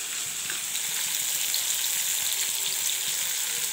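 Cauliflower and potatoes with ginger fry in a pan, giving off a loud, steady, hissing sizzle that runs on without a break and with no talk over it.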